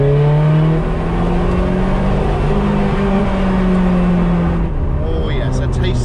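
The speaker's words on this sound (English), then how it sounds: "you can take advantage of listening to the engine bounce off the wall" A Ferrari 430 Scuderia engine revs and drones loudly, its steady tone rising and falling as the sound rings back off nearby walls.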